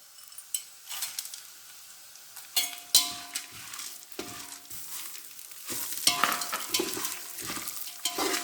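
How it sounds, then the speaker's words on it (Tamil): A pan dry-roasting ingredients for kara pori gives bursts of scraping, rattling stirring and light sizzle in uneven strokes. It is close and fairly quiet, with brief pauses between the stirs. "பார்த்தீங்களா, இந்த மாதிரி வறுக்கணுங்க"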